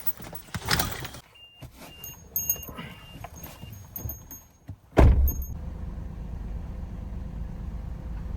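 A car that has sat closed for days is entered: keys jangle and clicks sound at close range, a door thuds shut, then a steady low engine hum takes over and continues.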